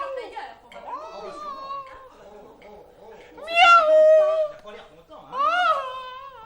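A voice imitates a tomcat meowing on a gutter as a theatre stage effect, producing drawn-out wailing meows that rise and fall, with the loudest two near the end.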